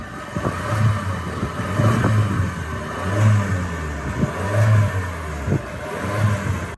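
A 2020 Kia Sportage compact SUV's engine revs repeatedly, heard from outside, rising and falling in several bursts, with a low, throaty exhaust rumble between them.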